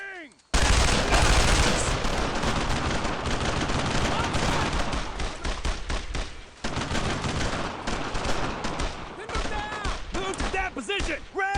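Dense World War II shooter battle gunfire, rapid overlapping rifle and machine-gun bursts crackling loudly and almost without pause, a brief lull midway, then more shots with shouted voices near the end.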